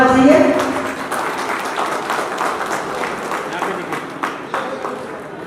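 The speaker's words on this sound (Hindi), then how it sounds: "एक बार जोरदार ताली से इनका स्वागत होना चाहिए।" A crowd at a community foundation-day gathering gives a guest a burst of applause. The clapping is dense and fades gradually while a voice keeps talking over it.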